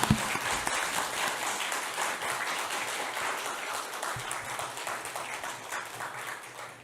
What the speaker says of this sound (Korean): 여러분 박수 한번 크게 보내주시죠.